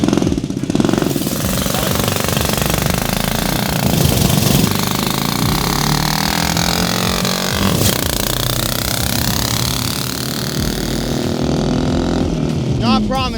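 A small turbocharged engine in an Amazon mini jeep starts up and runs steadily, a loud, rough, chattering idle that continues throughout while people talk over it.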